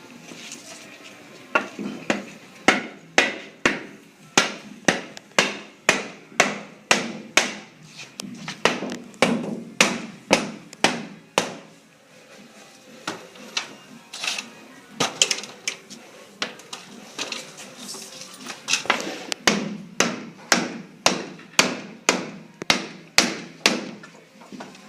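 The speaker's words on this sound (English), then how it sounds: "So now we're just going to go ahead and hammer the part on completely." A hammer strikes an interlock repeatedly as it is fitted onto an installed sliding door, giving close, sharp taps in quick rhythmic bursts with short pauses between runs.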